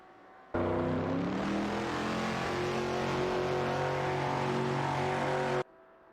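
Video game race cars, a Shelby GT and a Ferrari 250 GTO battling for position, engines roaring loud and continuous with rising and shifting tonal whine for about five seconds, then cutting off abruptly.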